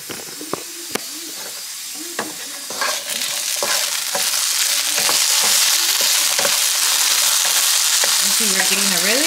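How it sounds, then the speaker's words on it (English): Potatoes frying in a pan at a Sunday breakfast, a steady close sizzle and hiss that grows louder and fuller, with a few scraping stirs and clinks early on. "Let's go check on those papas because I hear them."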